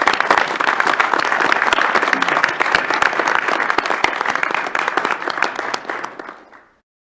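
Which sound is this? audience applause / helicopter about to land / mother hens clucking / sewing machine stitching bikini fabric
audience applause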